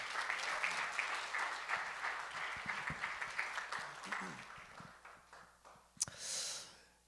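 A Korean church congregation at a New Year revival service applauds in a dense burst that thins into scattered claps and fades out, followed by a close, breathy exhale near the microphone.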